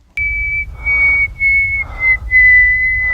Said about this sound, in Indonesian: terus tiba-tiba siulan